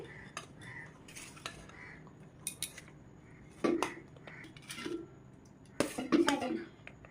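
Rice being spooned gently into a pot over bay leaves while layering biryani, giving soft, scattered clinks and scrapes of a utensil against the pot, louder in a few brief bursts, with faint background voices.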